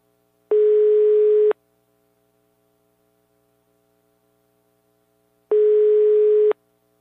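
Two identical one-second electronic ringback tones on a phone line during a prank call, spaced about five seconds apart over quiet line hum, with no talking.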